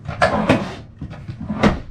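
Drawer in an Airstream Classic 30-foot travel trailer being handled, giving a few close, loud knocks and sliding thuds in quick succession, with no talk over them.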